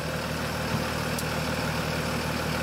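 A Mercedes Sprinter van with a defective alternator idles steadily, giving a low, even engine hum with faint broadband noise and no other sounds.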